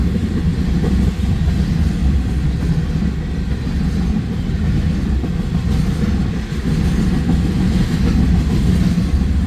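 Freight train passing close and loud, its consist including a Union Pacific 1989 Denver & Rio Grande Western heritage locomotive, with a steady heavy rumble and rolling rail noise throughout.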